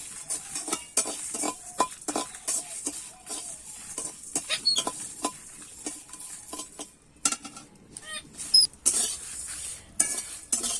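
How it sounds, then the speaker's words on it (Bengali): Coriander, panch phoron and cumin are stirred and fried in a pan, with a soft sizzle under repeated sharp scrapes and clinks of a metal spoon against the pan in an irregular rhythm. "দিয়ে আমি একটু এবার নেড়ে ছেড়ে কিন্তু ভেজে নেব"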